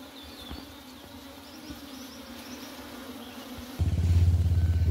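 Bees hum in a soft continuous drone, then a motorbike engine suddenly starts thumping loudly near the end.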